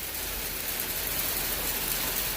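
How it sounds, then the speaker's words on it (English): Hail patters steadily on a house in a thunderstorm, a dense, even hiss of small impacts heard faintly from indoors without any voices. "It is not rain, it is hail."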